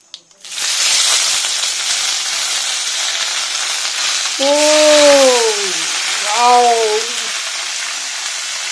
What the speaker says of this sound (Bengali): বাহ, কি করে পটপট করে ভাজছে।